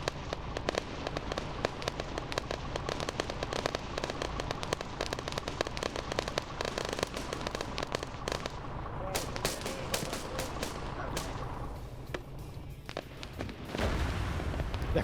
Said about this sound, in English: They're putting rounds out on the solar farm.